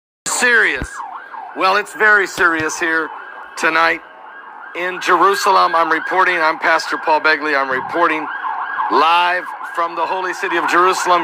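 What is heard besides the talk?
sirens in the background in Jerusalem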